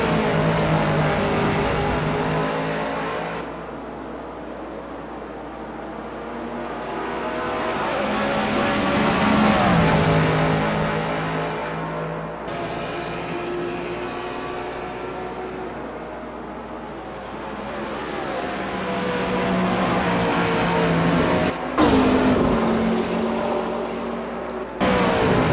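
Race cars lapping Monza in a racing video game, engines revving up and dropping through gear changes with loud rising whines and brief lifts, several cars close together and passing, with no talk.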